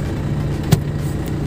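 Engine of a Panther with an automatic transmission, heard idling steady and low right after the shifter goes into drive, with a brief clunk partway through.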